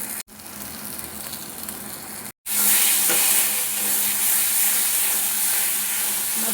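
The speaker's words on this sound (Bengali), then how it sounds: "মশলাটা আমি খুব ভালোভাবে কষিয়ে নিয়েছি" Spice paste for Bengali fish kalia is being fried in oil. After a brief cut, a bright, steady sizzle with soft stirring runs loud and continuous to the end.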